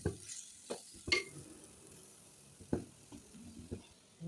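Chili mixture being stirred and mixed in a pan for karawala oil curry, giving soft scraping strokes and light sizzle in a few separate bursts, close and fairly quiet, with no talk.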